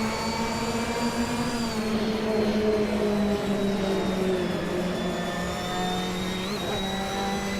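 Engine of a 2008 KTM X-Bow GT4 race car in a racing video game, a sustained droning tone that sweeps slowly through pitch, steady and close.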